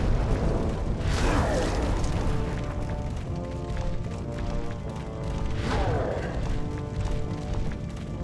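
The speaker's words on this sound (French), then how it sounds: "Mec ça fait des explosions de zinzin." Explosions in Demon's Souls on PS3, two heavy booms that swell and roll away about four seconds apart over a constant low in-game drone, with no talking.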